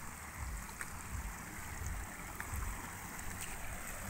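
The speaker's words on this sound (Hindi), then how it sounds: "ये झरने का पानी है" Rain-swollen waterfall in the Naininath forest hills pouring steadily, a dense continuous rushing roar of flowing water that stays even and fairly close throughout, with no voices.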